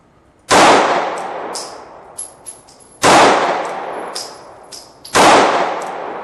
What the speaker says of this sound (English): Here's the Ruger LC9, 3 rounds.